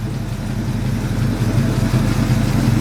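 A 1947 Ford pickup with a 351 Cleveland V8, four-barrel carburetor and four-speed running, a loud steady low engine rumble with a slight lumpy pulse, close and unbroken throughout.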